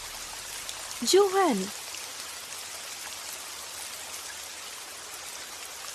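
Steady rain hisses outside a hospital, a soft even wash under a brief voice speaking in the foreground.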